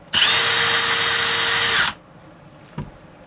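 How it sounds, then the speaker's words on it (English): A Milwaukee impact driver fitted with a 7/8 socket spins freely in one loud, steady whine lasting close to two seconds, then cuts off, leaving a faint room hush and a single soft knock. "So on our 7/8 socket, let's see what we get on just the impact."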